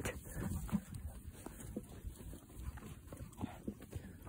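A horse moves along with a quiet, uneven clip-clop of hooves through steady background noise, faint and fairly close.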